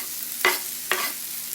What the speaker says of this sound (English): Once the oil is at least a little hot, you can test it with onion